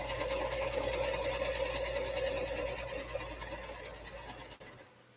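A sewing machine stitches a quilt seam with a steady, close, continuous whir for about four seconds, slowing and stopping near the end.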